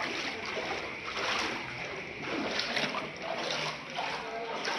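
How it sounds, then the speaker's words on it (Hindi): Floodwater sloshing and flowing inside a house during heavy rain in the Gotri area of Vadodara: a continuous rushing, splashing wash of water throughout, with a voice speaking faintly beneath it. "बहुत सारा पानी आ चुका है घर के अंदर"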